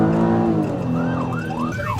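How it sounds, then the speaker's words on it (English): A police car siren blares during a chase, rising and falling in loud repeating wails over the hum of the car's engine, with no one talking. "even though he has his emergency lights on and his siren blaring"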